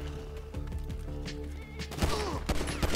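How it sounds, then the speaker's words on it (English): Gunfire in the crime game GTA V: a run of rapid, sharp shots crackles over a steady background hum, growing denser toward the end. "Until you guys shoot me first, I'm not firing back."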